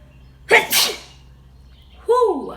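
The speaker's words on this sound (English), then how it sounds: "y'all get to see my powerful sneezes" A single powerful human sneeze bursts out close and loud, followed by a brief vocal exclamation.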